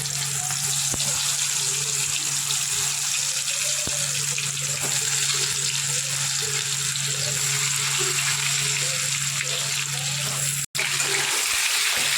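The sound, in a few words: potatoes frying in mustard oil in a wok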